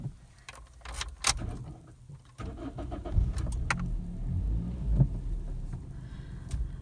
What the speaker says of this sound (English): Start up with this Toyota Etios and let's see how quiet it is inside.